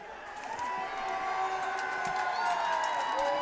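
A crowd at a high school varsity football game cheers for player number 49, a steady roar with whoops rising in the distance behind an announcer's voice.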